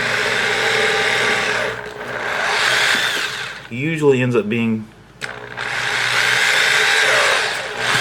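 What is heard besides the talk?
drilling a hole in an NES controller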